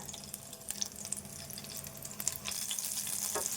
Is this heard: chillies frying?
yes